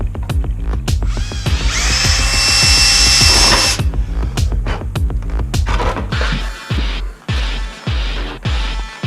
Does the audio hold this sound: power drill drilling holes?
yes